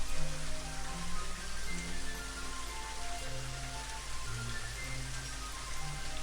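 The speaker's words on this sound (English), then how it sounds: "Oh, it's still raining. How long is it gonna bloody rain for?" Rain falling in the video game Daggerfall Unity, a steady hiss of drops on surfaces that runs throughout with a low hum underneath.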